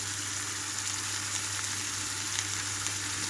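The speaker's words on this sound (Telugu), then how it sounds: "ఇక్కడ అల్లం వెల్లుల్లి మొత్తం వేగిన తర్వాత ఇందులోకి నేను కట్ చేసి పెట్టుకున్న బంగాళదుంప చిక్కుడుగా ముక్కలు వేస్తున్నాను" Potato and broad bean pieces fry with ginger and garlic in a pan, giving a steady, close, even sizzle with a low hum beneath and no talking.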